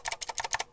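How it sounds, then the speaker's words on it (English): Keystrokes on a Razer BlackWidow V3 mechanical keyboard, eight quick, crisp clicky presses in a rapid, even burst, close and fairly quiet, with nothing else heard. "So when you're typing, it does have a nice clickiness to it"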